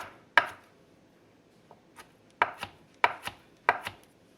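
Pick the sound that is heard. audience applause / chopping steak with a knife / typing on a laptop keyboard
chopping steak with a knife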